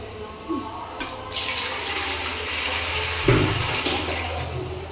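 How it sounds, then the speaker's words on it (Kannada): Water pouring from a jug into a pan for steaming plate idli, a steady rushing splash lasting a few seconds with a louder gush near the end, close by. "ಈ ತಪ್ಪಲಿಗೆ ಒಂದು ಚೊಂಬು ನೀರು ಹಾಕ್ತೀನಿ"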